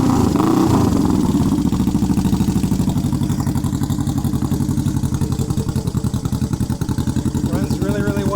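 A Honda CB360 motorcycle starts with the choke on and settles into a steady, loud, close idle with an even, rapid engine pulse throughout.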